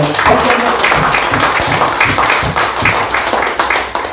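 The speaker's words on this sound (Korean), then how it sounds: "믿으시는 분 힘차게 박수하며" A church congregation claps vigorously during a worship service, a dense, steady patter of many hands that stays loud throughout.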